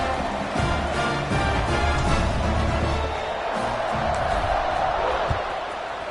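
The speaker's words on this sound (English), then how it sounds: "this crowd is buzzing after that last score" Football stadium crowd buzzing after a touchdown, a steady dense roar of many voices with scattered cheers and whoops, loud and continuous throughout with a commentator's voice over it.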